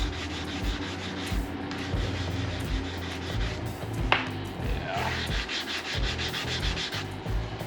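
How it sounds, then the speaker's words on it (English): The body of a 2020 GMC truck is being sanded by hand, producing steady, rhythmic scratchy rubbing strokes that stay close and fairly loud throughout. "now let's just continue to sand"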